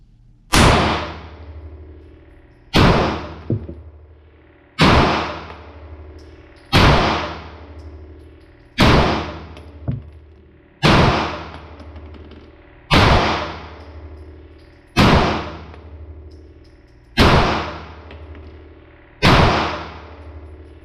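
A 9mm pistol built on an SCT 43 lower with a Kinetitech upper is test-fired ten times at an even, unhurried pace. Each shot is a sharp, loud crack with a quickly fading tail.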